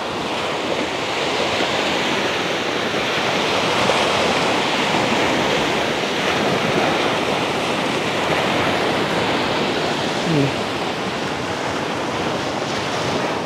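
Sea waves washing onto the shore on a night beach, a continuous broad rushing roar of surf that stays loud and steady throughout, mixed with some wind buffeting the microphone and no voices.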